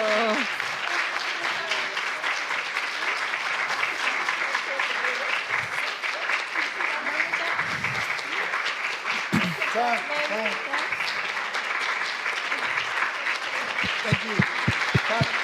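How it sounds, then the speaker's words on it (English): A conference audience breaks into sustained, even applause that fills the room from start to finish, while a speaker briefly thanks them over the clapping. "And first the presents and then applause."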